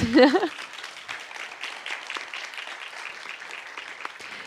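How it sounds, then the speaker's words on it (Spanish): Light audience applause at an education forum on inclusion, thin and scattered after a brief voice at the start, continuing softly with occasional louder claps. "Aplausos para Doris."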